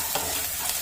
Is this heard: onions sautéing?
yes